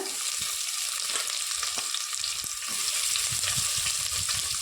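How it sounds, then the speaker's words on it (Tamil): Sliced big onions fry in a pan for country chicken biryani, giving a close, steady sizzle with some stirring scrapes and crackles, and no talking. "மூணு பெரிய வெங்காயம் ஸ்லைஸாக கட் பண்ணி வச்சுருக்கேன் அதை ஆட் பண்ணிக்கோங்க"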